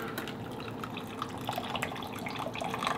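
Water is poured out of a Japanese Pringles instant noodle cup, a steady close splashing stream with small drips, heard alone for a few seconds.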